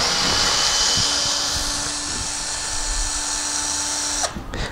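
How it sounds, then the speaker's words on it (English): A power drill whines steadily as the bit grinds into metal, a sustained high-pitched mechanical drone that cuts off abruptly near the end. "we are going to demonstrate the use of this bit to drill into metal"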